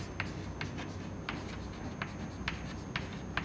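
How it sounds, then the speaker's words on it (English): Pen or chalk writing during a fluid mechanics lecture on streamlines: a series of soft, brief scratchy strokes at irregular intervals over steady low room hum, with no talking. "So I am going to write that here"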